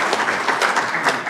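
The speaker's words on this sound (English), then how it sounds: "I hope that applause was for me" An audience applauds for Senator Bill Mumford at a hemp industry event in Florida, a steady wash of many hands clapping in a room, moderately loud with no voices over it.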